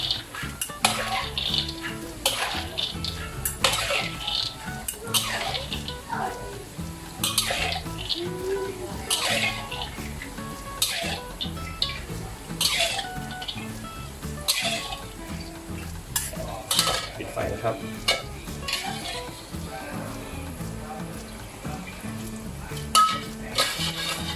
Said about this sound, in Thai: ก็เริ่มตัก เลยนะครับ เพื่อกรองน้ำมันออกนะครับ